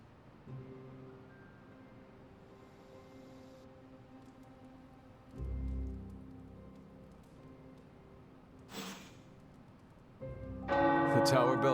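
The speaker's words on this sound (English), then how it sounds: "The tower bells are ringing." Tower church bells ring in the Midnight Suns video game, bright metallic strikes arriving late and briefly, over a low ambient hum with soft rain-like texture.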